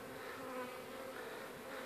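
Swarm of honeybees in a steady, dense buzz on their first cleansing flight of March, flying around the hive just after winter, heard alone at moderate level with no talk.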